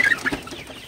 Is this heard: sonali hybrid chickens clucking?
yes